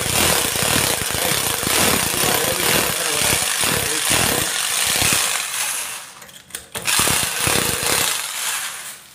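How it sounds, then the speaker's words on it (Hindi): A power drill bores a hole into a repaired stone door frame, loud grinding bursts with rapid rattling pulses, then a brief pause before the drilling resumes and continues to the end. "हम आपको ड्रिल होल करके दिखाते हैं, देखिए ये कितनी मजबूत हो जाती है"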